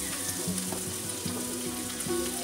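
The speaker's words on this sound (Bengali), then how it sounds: "মিডিয়াম ফ্লেমে রেখে কিন্তু সবজিগুলোকে হালকা করে ভেজে নিতে হবে।" Potatoes and carrots fry in a pan over a medium flame for Mumbai-style pav bhaji, giving a close, continuous sizzle with faint stirring, no voices.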